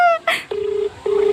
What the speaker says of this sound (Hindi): अभिषेक का फोन कर रहे अब